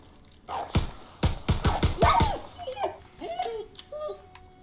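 A dog in the Call of Duty: World War II campaign gives a rapid burst of sharp yelps followed by high, wavering whimpers, fairly close, with no talking over it.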